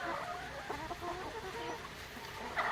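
Dekalb Brown breeder hens cluck in a poultry pen, with soft, repeated clucks and murmurs throughout and a slightly louder call near the end, with no talking.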